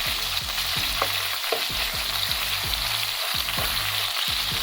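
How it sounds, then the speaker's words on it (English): Meat sizzles and fries steadily in a pan while a utensil stirs it in a regular scraping rhythm, near and continuous with no voices. "We're just gonna keep stirring it. Let it cook. Let that meat cook."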